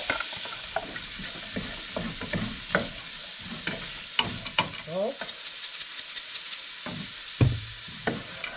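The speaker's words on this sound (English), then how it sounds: "Okay, I did about a tablespoon of olive oil and 2 tablespoons of butter. We're going to add our celery, onions, and carrots." Celery, onions and carrots sizzle steadily in olive oil and butter in a pan for a Bolognese sauce, with repeated scraping clicks of a utensil stirring the vegetables close by.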